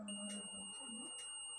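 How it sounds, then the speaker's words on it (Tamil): A multimeter gives a steady, faint, high-pitched continuity beep while the wiring of an RC socket connection is checked with its probes. "ஒவ்வொன்று எது இதை டச் பண்ணிங்கன்னா பீப் சவுண்டு வரும்"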